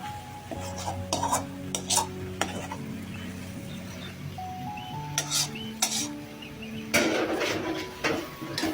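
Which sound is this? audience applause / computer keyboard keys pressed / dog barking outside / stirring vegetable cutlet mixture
stirring vegetable cutlet mixture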